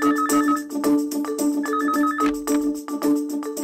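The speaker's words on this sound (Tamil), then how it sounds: "போன் மணி அடிக்குது" A telephone ringtone plays a bright, repeating electronic melody. It is loud and steady for the whole stretch, with no talking over it.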